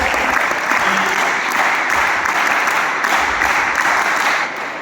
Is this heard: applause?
yes